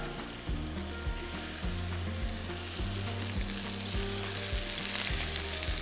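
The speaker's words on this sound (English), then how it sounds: "now I'm going to drop in my pork chops" Pork chops searing in oil in a hot skillet over medium-high heat, a dense continuous sizzle under a rhythmic low hum, close and steady with no talking.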